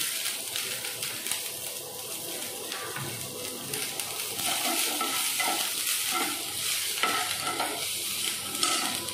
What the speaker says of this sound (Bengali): এবার কারি পাতাগুলো দিয়ে দেবেন।